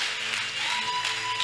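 A church congregation at a Sunday worship service applauds, a dense steady clapping with a faint tonal background and no clear speech.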